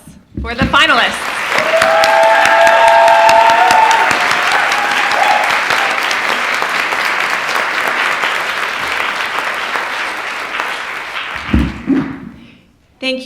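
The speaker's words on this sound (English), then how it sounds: "One more round of applause for the finalists." An audience applauds the finalists of a peace oratory contest with a long, full round of clapping that builds quickly, holds strongly for around ten seconds, then tapers off as voices come in near the end.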